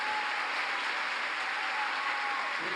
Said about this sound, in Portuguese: Aplauda mais forte.